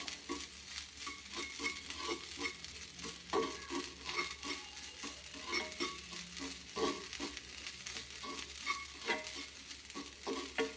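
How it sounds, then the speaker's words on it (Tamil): Ingredients sautéing in a pan for a lentil-vada buttermilk curry give a steady sizzle, with repeated scraping stirs and light clinks at an irregular rhythm, close and moderately loud, with no talking. "கொஞ்சம் வதங்கட்டும்."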